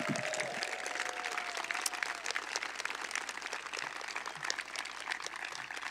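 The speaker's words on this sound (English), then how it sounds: "How about a round of applause for all of you?" Audience applause at a library announcement and groundbreaking event, a dense steady wash of many hands clapping that carries on for the whole stretch at an even level with only faint crowd murmur.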